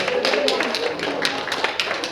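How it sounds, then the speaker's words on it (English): Audience clapping for a performing poodle at a dog show: a brief burst of dense, steady applause from a crowd, loud and close, with a voice talking over it. "Big round of applause for my Italian dog, Emilio"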